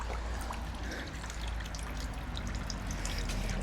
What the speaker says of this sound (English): I am going to siphon the reservoir